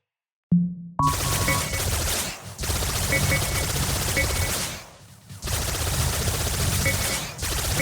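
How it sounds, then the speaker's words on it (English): Laser cannon primary attack in the Subverse video game, fired in a rapid sustained stream of loud zapping bursts, with two short pauses between volleys. "Please click the left mouse button to fire your generic unlimited ammo laser cannon primary attack."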